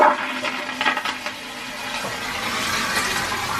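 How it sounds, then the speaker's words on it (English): Hotel-room toilets flushing nearby at a Disney resort: a rushing, hissing water gush that surges at the start, then settles into a steady refilling wash. "you get 11 toilets making this noise at all times"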